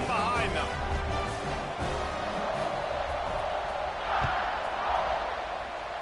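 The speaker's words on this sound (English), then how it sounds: "They're set to kick it off, and this crowd now ready to get behind them." A big stadium crowd roars steadily before a football kickoff, a dense, sustained wash of cheering and noise throughout, with no clear speech.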